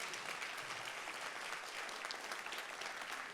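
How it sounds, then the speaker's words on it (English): Steady audience applause at a keynote session, a dense even patter of many hands clapping throughout, fairly faint and distant, with no talking over it. "give this man a clap"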